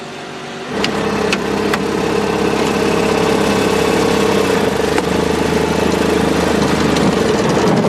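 Rail motor car engine on the Maine Central Railroad Calais Branch starts up and runs loudly, with a steady rumbling idle and a few clunks as the clutch is worked and it is put in gear.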